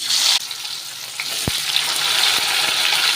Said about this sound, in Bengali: তেলটা গরম হয়ে গেছে, উস্তেটাকে আমি লাল লাল করে ভেজে নেব।